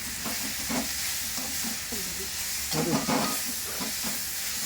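Garlic and green chilies fry in a pan for pepper chicken, giving a steady close sizzle and hiss with repeated scraping stirs of a spatula, and no voices over it.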